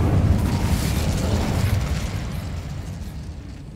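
Incendio fire spell cast in the Hogwarts Legacy video game, a loud fiery burst with a low rumbling roar that gradually fades over a few seconds, no voices.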